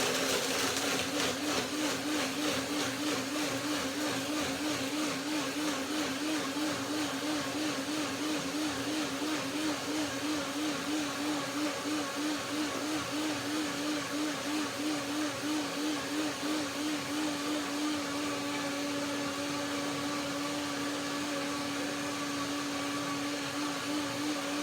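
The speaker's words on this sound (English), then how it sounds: "I always do 2 blendings, yeah, with nuts and dates." A blender runs steadily at close range, blending cashews and dates into a cream, with a loud, continuous whirring motor whine that holds throughout.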